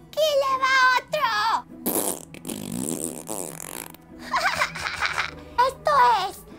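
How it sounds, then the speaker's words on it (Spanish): A cartoon unicorn fart sound effect in a children's animated story, long buzzy sputtering blasts that come loud and close between bursts of excited character voices. "¡Esto es lo que yo llamo pedos de unicornio!"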